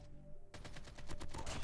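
AK47 gunfire in Call of Duty Mobile erupts as a rapid burst of close, loud shots in quick rhythmic succession after a brief quieter moment.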